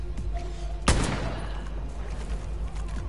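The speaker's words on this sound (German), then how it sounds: "Gar nicht laut, dein Schuss!" A single loud gunshot cracks out in the video game Far Cry New Dawn, a sharp close blast with a short ringing tail over a steady low rumble of game ambience.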